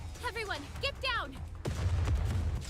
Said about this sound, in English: There's a cacophony of noise as Snow White's gunfire melts with artillery fire from off in the distance